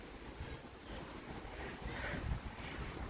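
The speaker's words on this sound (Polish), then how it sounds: "u mnie wieje, normalnie wieje" Wind blows outdoors through trees, a soft, continuous and fairly faint rushing that swells gently partway through, with no voices.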